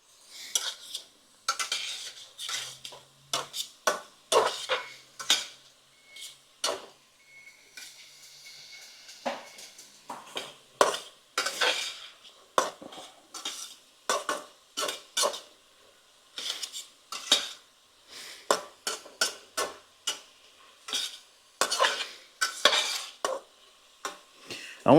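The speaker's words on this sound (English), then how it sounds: "I want to cook those vegetables for a little while" Vegetables for drunken Italian noodles stirred in a pan, with a quick, irregular run of close metallic scrapes and clacks of utensil on cookware over a faint sizzle, no voices.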